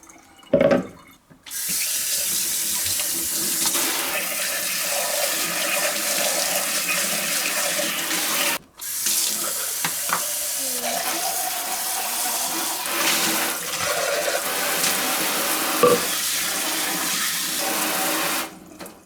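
Water from a kitchen tap runs steadily over a Vitamix E320 blender container being rinsed, a continuous close rushing splash with a brief break midway and no talking.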